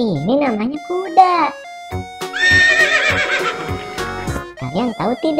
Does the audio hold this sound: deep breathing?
no